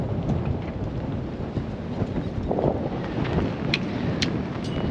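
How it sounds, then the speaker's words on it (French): Strong, steady gusty wind by a harbor roars into the microphone with gusty surges, joined by scattered high clicks and rattles. "Ça rafale un peu ici, hein."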